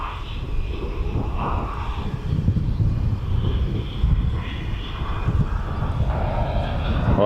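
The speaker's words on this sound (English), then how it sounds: "here's the Ryanair that went around" A Ryanair airliner going around at East Midlands Airport, its steady engine roar filling the air throughout, loud and continuous with no talking.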